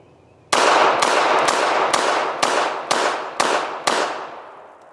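A Beretta Model 85 Cheetah .380 ACP pistol fires eight sharp, loud shots in a steady, fairly quick sequence outdoors, each crack ringing briefly before the next.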